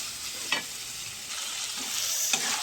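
Spice paste sautéing in a pan for a Bengali home curry, a steady soft sizzle and fry with a few brief stirring scrapes spaced apart, close by and fairly quiet.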